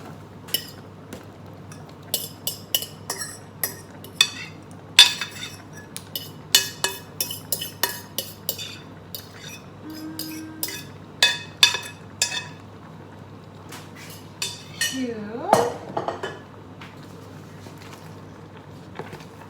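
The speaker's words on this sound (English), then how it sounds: "Now we turn the stove a bit down and we're going to add the jackfruit we marinated earlier." Marinated jackfruit tipped into a pan on a stove, with a run of irregular near clinks, taps and scrapes from utensils against the pan and a soft sizzle underneath.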